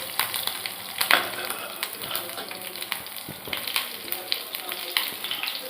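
Chopped green chillies dropped into hot oil with tempering seeds, giving a steady close crackling sizzle with sharp pops throughout, no talking.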